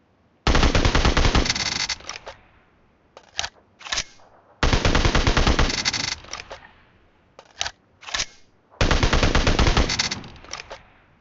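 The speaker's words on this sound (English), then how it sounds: "Since I set it to continuous fire and I max the continuous fire, this is what continuous fires looks like" Three loud, sustained bursts of continuous automatic gunfire from a mobile shooter video game, each lasting about two seconds, separated by shorter single shots and brief clicks, with no talking.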